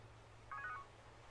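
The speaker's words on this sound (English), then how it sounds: "Phone call." A short burst of electronic telephone tones signals an incoming call in the Batman Telltale Series game, brief and faint over a low steady background hum, lasting well under half a second, with no speech.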